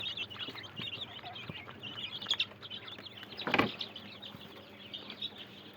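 Chicks, quails, Pakistani, Australian and native chickens and ducklings cheep together in a poultry pen, forming a dense, steady chirping chorus with a few louder calls.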